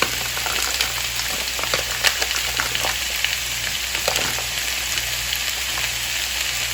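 Ground bison meat sizzles steadily in a hot pan, a dense crackling hiss with occasional louder pops, close and continuous.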